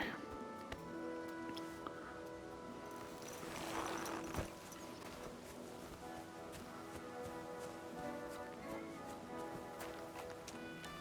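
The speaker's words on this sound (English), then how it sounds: "Watch out with that horse." Hoofbeats of a horse clip-clop in Kingdom Come Deliverance 2, fairly faint beneath a continuous wash of game music and ambience, with a brief louder rustling burst near the middle.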